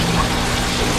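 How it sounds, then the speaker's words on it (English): Shower head water pouring steadily into a portable washing machine inside an RV, a continuous close hissing splash with no pauses. "we're starting to fill it up with just our regular shower head water"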